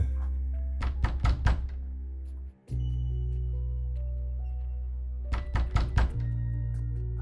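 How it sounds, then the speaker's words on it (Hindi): Knocking on a bedroom door in a horror story: two bursts of three or four sharp, close knocks, separated by a pause, over a steady low musical drone. "कोई आदित्य के कमरे का दरवाजा खटखटाता है।"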